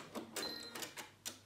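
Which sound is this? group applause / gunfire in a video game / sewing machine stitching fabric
sewing machine stitching fabric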